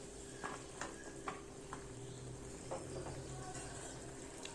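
Fried lentil dumplings (bori) go into a pan of seasoned sauce and are stirred with a few soft clacks and scrapes, over a faint, steady simmering sizzle.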